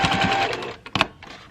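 A sewing machine runs a steady whirring stitch along a pincushion seam, then stops for a couple of quick reverse back-stitch bursts, close and clear.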